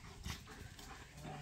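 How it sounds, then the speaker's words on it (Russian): A dog gives a short, faint whimper or yip outdoors in a rural yard near a forest, a brief sound over quiet background noise. "Немножко, ну, бегают же собаки"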